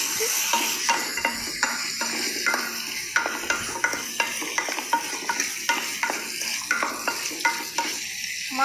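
Meat frying in a pan while being stirred steadily, with a constant sizzle broken by regular scraping and clinking strokes of the spoon every half second or so, close and fairly loud.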